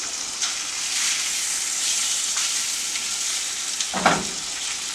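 Steady crackling sizzle of salmon crisping in a hot pan, continuous and close, with a brief louder spatter near the end.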